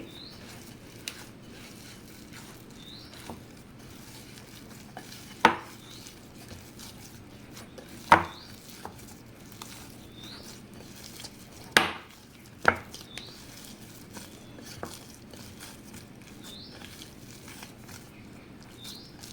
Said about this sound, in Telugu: పిండి అంతా కూడా బాగా చేతితో మర్దన చేసుకోవాలి